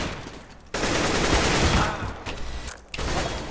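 Automatic rifle spray fires in bursts during a CS:GO competitive match on the Train map, one loud dense volley followed by a brief pause and a shorter burst.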